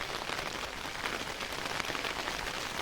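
Light drizzle falling outdoors over a millet field, a steady faint patter of raindrops with no voices.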